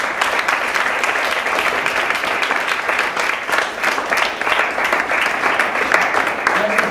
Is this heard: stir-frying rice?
no